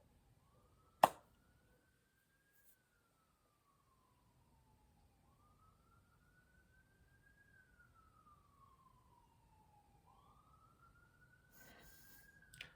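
A single police siren wails faintly in the distance outside, rising and falling slowly over several long cycles, preceded by one sharp near click and ending with a little background noise.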